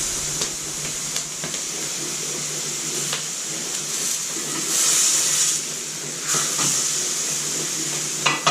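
Water steaming and sizzling under asparagus wrapped in tin foil in a single pan at an Alaskan Arctic camp, a steady hiss with brief louder bursts of crackle.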